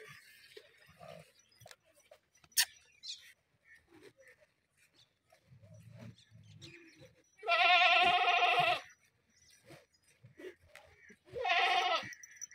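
A goat bleats twice while being milked: two loud, wavering cries several seconds apart, close by, between quieter scattered farmyard noises.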